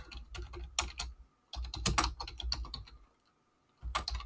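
Bursts of keystrokes on a computer keyboard while coding a Python rock-paper-scissors program, close and crisp, in three clusters separated by short pauses of quiet.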